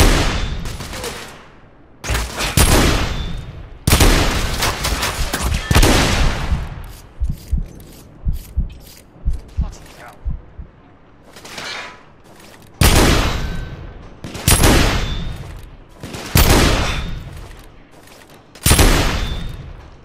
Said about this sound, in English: Taking suppressive fire!